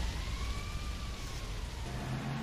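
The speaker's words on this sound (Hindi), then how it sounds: "वह फायर इंजन भी आ चुका है।" Fire engine siren in the video game GTA Vice City, a faint rising-and-falling wail that sweeps through over a steady wash of background game noise, moderately distant and with no talk.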